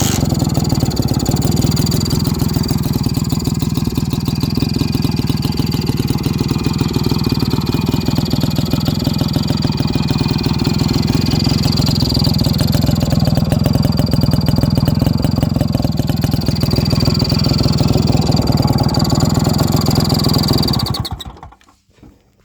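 A restored Zetka motorcycle engine, started with a single kick, runs outdoors in a meadow with a steady, loud, close putter for about twenty seconds before shutting off.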